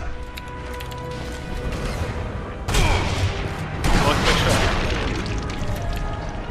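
Pistol gunfire in the co-op shooter Sniper Elite V2, with two loud sharp bursts and booming echoes among in-game combat noise, players talking over it.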